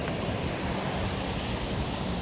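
Ocean waves wash continuously on Danang Beach, Vietnam, a dense, even roar of surf with some wind, heard alone with no talk.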